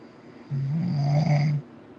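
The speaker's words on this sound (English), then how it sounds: "Listen, she's snoring along." A single long snore, a low droning rasp lasting about a second, close by, with quiet background before and after.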